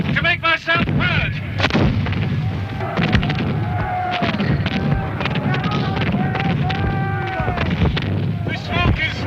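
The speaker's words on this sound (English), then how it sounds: "That's Cumberland's cannon. Cannonades all around me." Heavy cannon fire booms repeatedly amid the Battle of Culloden, with shouting voices and a dense, chaotic din of blasts throughout.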